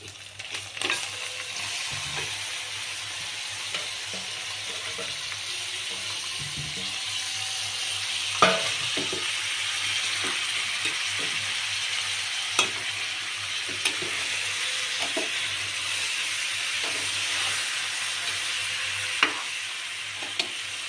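Country chicken marinated in chili powder, turmeric and salt fries with onion and ginger-garlic paste in a pan, a steady low sizzle broken by occasional sharp clinks and scrapes of stirring.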